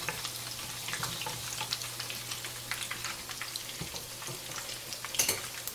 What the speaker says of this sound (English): Oil is hot enough. I'm gonna add the cumin seeds.